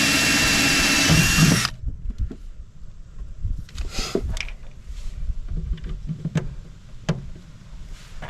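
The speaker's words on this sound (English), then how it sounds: "while I drill the rest of them" Power drill boring holes during a DC to DC charger install, a loud whining run of about a second and a half, followed by quieter knocks and handling noises.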